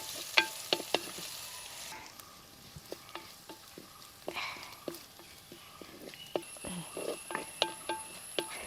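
Whole chillies and shallots fry in a pan, a soft, faint sizzle broken by repeated scraping clicks of a spoon stirring them.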